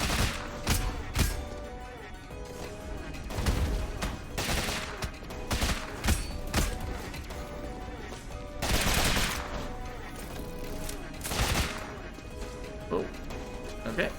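Rapid gunfire and impact bursts from the video game Rogue Legacy 2 come in repeated loud volleys with crashes, dense and continuous over game sounds.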